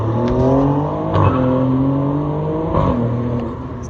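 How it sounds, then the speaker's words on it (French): Ferrari Purosangue fitted with a Novitec exhaust revs outdoors in a street setting, its engine note rising and falling in a couple of sharp blips over a steady idle, fairly close and loud. "Puro Sangue échappement Novitec. Celui-là il fait un bruit de dingue."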